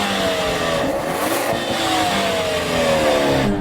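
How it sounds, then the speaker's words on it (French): A Mercedes-AMG A45 engine revs hard in a drag race comparison, a loud, steady growl with harmonics that climb and dip, close and sustained throughout with no talking. "Écoutons la A45."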